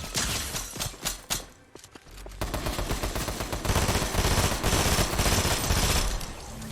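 Rapid gunfire in the video game Fortnite, a loud dense volley of shotgun and weapon blasts, sparse at first then a continuous roaring burst of shots with no talking.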